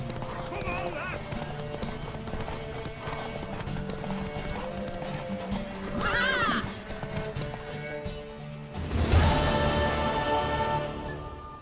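A horse gallops with steady clip-clop hoofbeats and gives a loud neigh near the end, set amid game music and background voices in The Witcher 3.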